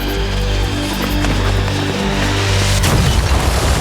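Bomb explosion in an action movie: a dense, loud rumbling blast with deep low-end roar filling the whole stretch, swelling into a fresh burst of crackling debris near the end, with no speech.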